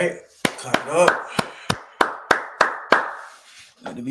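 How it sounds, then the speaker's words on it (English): Sharp, evenly spaced claps, roughly nine in about three seconds, ring out close over a sustained voice that shouts over them, with a brief hum of crowd at the end. "Clap it up."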